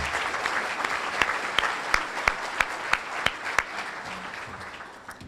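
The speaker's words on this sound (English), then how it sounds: "How about a round of applause?" Sustained applause from a membership luncheon crowd, a steady roar of many hands with a few sharper, louder claps standing out at regular intervals, fading slightly toward the end.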